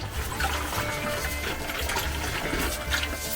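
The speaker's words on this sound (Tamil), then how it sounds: "ஊத்திட்டே இருக்குல்ல தண்ணி அது வந்துட்டே இருக்கு" Water pours in a steady, continuous stream, moderately loud and close, with a rushing, splashing texture throughout.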